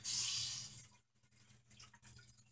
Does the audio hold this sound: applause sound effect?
no